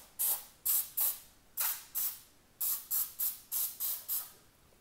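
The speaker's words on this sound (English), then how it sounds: "I'm using this palm spray to just slightly oil the pans" Palm oil spray misting over tin foil baking pans, about eleven short hissing bursts in quick uneven succession, close and fairly quiet, with no talking.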